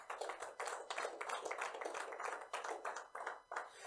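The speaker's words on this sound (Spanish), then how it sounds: "Dele un fuerte aplauso a Dios por su plan" Church congregation clapping together in a steady, loud burst of applause that carries on without pause for about four seconds, with no voices rising above it.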